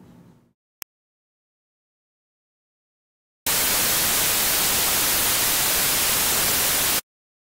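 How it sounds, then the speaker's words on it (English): A steady, loud hiss of broadband white noise test signal at about minus 12 decibels runs unchanged for a few seconds, then cuts off abruptly, after a brief click and silence. "I'm going to play a sustained white noise sample at about minus 12 decibels"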